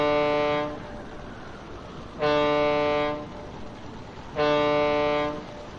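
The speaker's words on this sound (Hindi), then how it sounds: "अचानक भोंपू की एक खौफनाक आवाज ने उसका इन्हिमाक तोड़ दिया" Three long, loud ship horn blasts with rich harmonic tones, each lasting about a second, separated by short gaps of quieter rumbling background.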